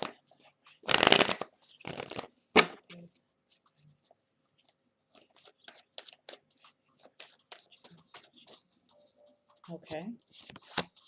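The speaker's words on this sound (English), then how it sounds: "I do have the Gilded Tarots, my good old trusty. And then I also have the Egyptian Lenormand cards." Tarot and Lenormand cards, a Gilded Tarot and an Egyptian Lenormand deck, shuffled by hand: a loud riffling burst up close, followed by quieter scattered card slides and taps, with a brief spoken word.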